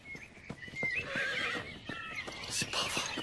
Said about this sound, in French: Saleté de cheval!